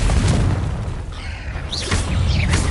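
A Confringo blasting spell explodes in the Hogwarts Legacy video game. Deep booming blasts sound in quick succession, with a whooshing burst between them.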